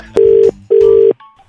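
A phone line plays its disconnect tone after a call is hung up: two loud, steady electronic beeps with a short gap between them, then silence.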